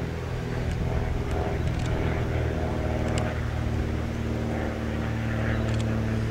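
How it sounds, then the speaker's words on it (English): A steady low engine drone from a boat on a lake, continuous and fairly loud, with faint occasional knocks over it. "Look, there's a boat out there."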